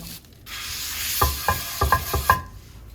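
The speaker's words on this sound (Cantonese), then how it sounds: "咁呢度抹一抹個鑊咯" A wok is rubbed clean with a cloth before eggs are fried, giving a steady scraping swish that rises into a run of short, rhythmic rubbing strokes before stopping.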